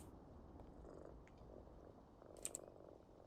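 A pet cat purrs softly and steadily while being stroked in Powerwash Simulator 2, a low continuous rumble with a couple of brief high chirps near the end.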